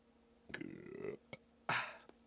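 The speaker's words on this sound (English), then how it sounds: "I have to burp into the microphone here" A man burps into a microphone after drinking beer, a drawn-out low belch followed by a short clicking sound and a brief breathy exhale, all close and fairly quiet.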